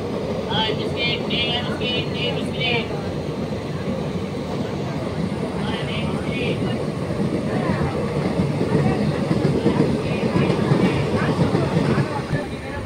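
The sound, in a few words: local passenger train running, Arakkonam to Perambur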